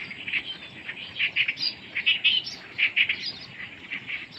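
Quail chicks chirp at feeding time, a busy flurry of short high tweets repeating in uneven clusters, fairly close and moderately loud over a soft low background hum, with no speech.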